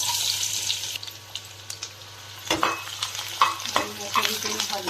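Chopped onion goes into very hot oil in a pan for potato poha, a soft sizzle that jumps into sharper crackling and spatter partway through, with light stirring clatter.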